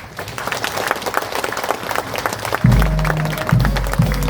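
Congregation applauding during Easter Mass in a church, a full, steady crowd of clapping hands that later continues beneath sustained low organ or instrumental tones.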